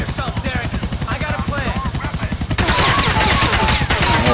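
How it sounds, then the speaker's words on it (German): Helicopter rotor thumping steadily in the video game GTA 4, with bursts of rapid gunfire crackling over it, growing denser and louder in the second half as a firefight erupts. "Jetzt kommt der Kampf gegen den Helikopter bestimmt."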